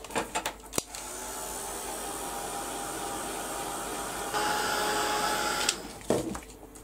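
A heat dryer runs steadily for several seconds to dry paint on a small craft project, a close, continuous whirring blow that shifts slightly in pitch before switching off, with a few handling knocks around it.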